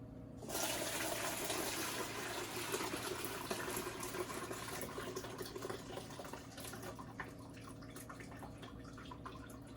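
Mead pouring steadily through a sanitized strainer into a sanitized pitcher, a continuous close liquid splash and trickle that runs loud and unbroken for nearly the whole stretch.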